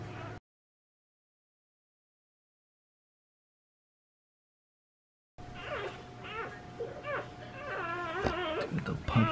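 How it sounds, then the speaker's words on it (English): Newborn puppies whimpering and yipping right after birth, the thin high cries rising and falling in a rapid chatter that grows louder, with a steady low hum underneath and a brief burst of sound before a long silent gap. "Three healthy puppies"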